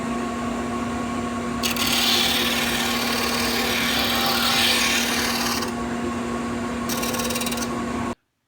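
Shopsmith disc sander rounding off the end of a wooden push stick: a steady motor hum runs throughout while harsh scraping bursts as the wood is pressed to the disc, first long, then briefly again, close and loud.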